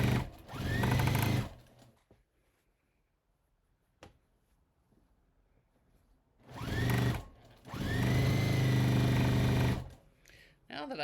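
A sewing machine stitches a criss cross apron in two close, loud runs, a short one and then a longer one, with a quiet pause and a single click between them and no speech over the sewing.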